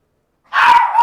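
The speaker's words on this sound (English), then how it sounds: "Oh, that's my dog." After silence, a dog indoors lets out a single loud, drawn-out bark that trails into a whining yip, close and clear.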